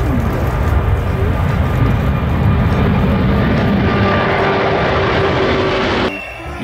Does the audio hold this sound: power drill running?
no